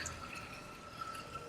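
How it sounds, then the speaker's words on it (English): Water trickles steadily from a waterfall feature into a backyard pool at a single-story Summerlin home, a faint, continuous splashing wash with no voices. "Love that waterfall right there."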